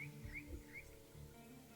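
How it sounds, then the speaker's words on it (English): Ambient birdsong in the video game Roadwarden: soft, repeated chirps and short whistled calls over a faint, steady background hum, quiet and without speech. "Yeah, the game is just bird sounds right now."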